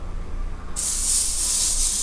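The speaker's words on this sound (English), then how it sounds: "you want to hear that sear, that sizzle means you've got your pan hot enough" A sudden loud sizzle erupts as sirloin steak hits a hot pan, a bright steady hiss that continues without pause.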